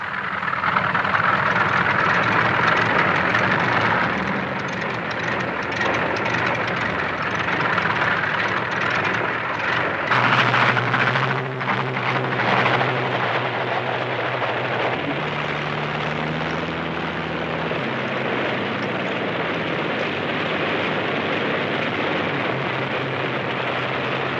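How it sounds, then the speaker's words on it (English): Engines of WWII P-47 Thunderbolt fighter planes start up for takeoff, a steady loud propeller-engine drone with shifting low tones as more engines join in, lasting throughout. "Six minutes after the first engine starts, the first squadron must begin the takeoff."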